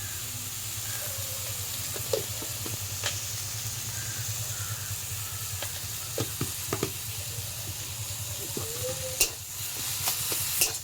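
Prawns fry in a pan with a steady soft sizzle and hiss, broken by occasional scraping stirs and light clinks of a utensil, with no talking.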